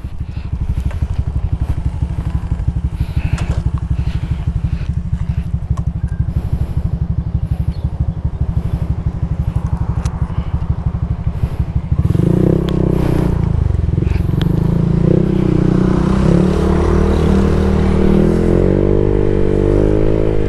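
A motorcycle fitted with an aftermarket T4S exhaust pipe rumbles with a deep, throaty exhaust, steady at first, then its pitch shifts and rises as it gets going on a road test.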